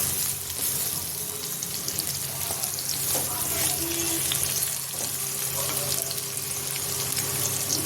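Potatoes and onions fry in a pan for a potato and pointed gourd sabzi, giving a continuous close sizzle with occasional stirring scrapes and a faint background hum.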